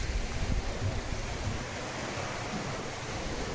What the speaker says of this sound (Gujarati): આ મોટર ચાલુ થઈ ગઈ. અવાજ તમને આવતો હોય છે, પાણીનો અવાજ પણ આવતો હોય છે.